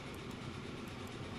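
A train rolls along rails in the Transport Fever 2 video game, producing a steady, continuous rumble with a faint rhythmic clatter throughout, near and unbroken, with no voices.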